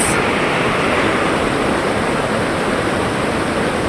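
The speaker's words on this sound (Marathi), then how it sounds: "हा धबधबा कसा वाटला नक्की कॉमेंट बॉक्समध्ये कळवा" A hidden monsoon waterfall at Kalvi, Devgad, roars as a loud, constant rush of falling water, dense and unbroken throughout, with no voices.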